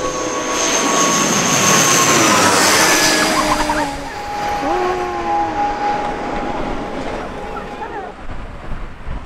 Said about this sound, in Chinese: 现在刚好有一架飞机正要降落，就在前面